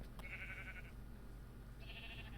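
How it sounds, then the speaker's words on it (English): A sheep in a Minecraft game gives two short synthetic bleats, the first near the start and the second toward the end, over a steady low background hum, with no talking. "This one sheep."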